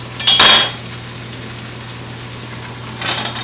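Mushrooms sizzle in a pan for a pork sausage and egg scramble, a steady soft frying hiss with two short bursts of stirring scrapes, near and alone without talk.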